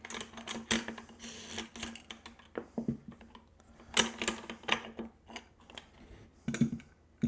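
Small metallic clicks and rattles of a takedown detent being pulled out on a CSA VZ-58 rifle, a series of sharp, close handling knocks spread irregularly over several seconds with no talk.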